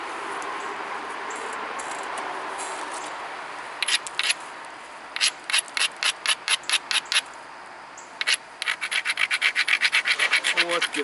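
Flint being ground at the edge during flintknapping, a steady gritty rub followed by bursts of quick rhythmic scraping strokes, close up with no talk.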